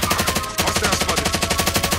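Rapid automatic gunfire fills a battle royale video game with a loud, continuous rhythmic stream of shots. There is one brief break partway through, and the bursts stay close and dominant throughout.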